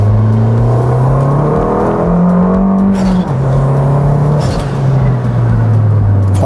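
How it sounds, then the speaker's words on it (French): An Abarth stage 3 tuned car with turbo accelerates hard in sport mode, its engine note rising steadily through the gears with brief dips at each shift, loud and close, with no talking. "Franchement, elle accélère super bien"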